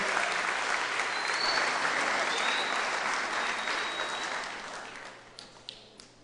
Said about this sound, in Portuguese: Vamos dar um aplauso ao Senhor pela vida do pastor Leôncio.